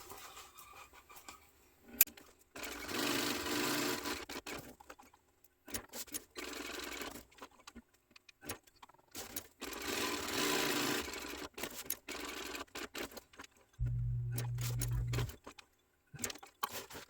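A sewing machine stitches down an overlay on a tote bag in steady whirring bursts of a few seconds each, separated by quiet pauses and small handling clicks, with a lower hum near the end.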